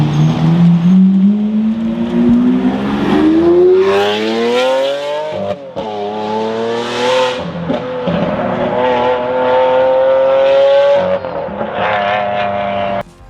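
Naturally aspirated V12 of a Lamborghini Aventador revs up through rising gears, a loud, close, sustained howl that climbs steadily in pitch with brief dips at each shift, heard alone.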